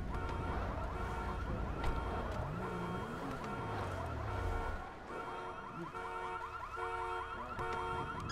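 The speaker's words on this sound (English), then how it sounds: "You set the alarm off." A car alarm blares steadily in a video game, a loud repeating electronic wail with warbling tones that persists for the whole clip, with a lower swooping tone briefly in the middle and no talking.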